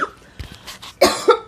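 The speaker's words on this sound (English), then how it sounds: "I went to a coughing fit right now" A person coughs several times in short, uneven bursts, the last ones louder and harsher, close to the listener.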